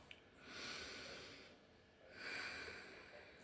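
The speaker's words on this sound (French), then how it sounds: "on va commencer par respirer profondément" A person takes slow, deep breaths, two long airy inhale-exhale swells up close in a quiet room, each rising and falling smoothly with a pause between.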